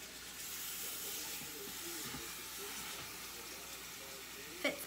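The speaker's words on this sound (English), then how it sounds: "You should hear a sizzle." Steady broadband hiss and crackle of meat frying in hot oil in an Instant Pot, continuous and fairly close, with a brief sharper pop near the end.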